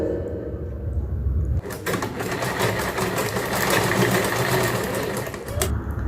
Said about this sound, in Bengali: মুড়ে আমি এই উপর দিকটা সেলাই করে দেবো